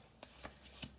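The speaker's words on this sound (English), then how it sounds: "Let's do 2 more shuffles." A tarot deck is shuffled in three quick riffling bursts, each a short papery flutter, close and quiet with no talking.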